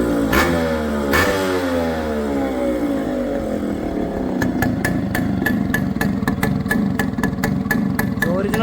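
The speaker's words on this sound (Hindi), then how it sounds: "अभी आपको स्टार्टिंग का साउंड सुनाता हूँ।" A Yamaha RX135 two-stroke motorcycle engine cranks and fires, its pitch sweeping as it revs, then settles into a loud, rapid, popping idle close by.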